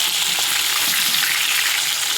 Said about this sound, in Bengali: এখন আমি ভালো করে মাছগুলো উল্টে দেব।